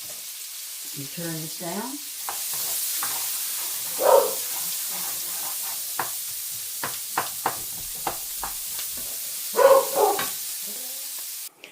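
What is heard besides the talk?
onions frying in a pan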